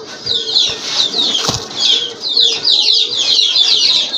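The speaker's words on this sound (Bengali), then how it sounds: "আর এক জোড়া কবুতর আনকমন কবুতর শিল কবুতর" Repeated bursts of wing flapping close by, several fancy pigeons fluttering in quick flurries with one sharp thump midway.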